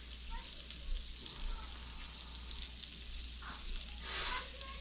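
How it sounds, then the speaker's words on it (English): Faint, steady sizzling crackles from hash browns frying in a hot pan, a soft continuous hiss with a few louder pops near the end. "look at that sizzle though. This pan definitely gets hot."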